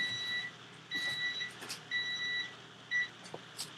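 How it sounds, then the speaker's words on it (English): Repeated high-pitched electronic beeps sound in short paired bursts with gaps between them, steady and fairly clear over quiet background noise, with no talking. "I bet you that beeping is annoying the fuck out of you."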